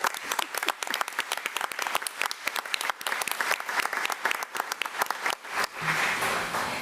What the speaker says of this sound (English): And I think that that is worth a huge round of applause.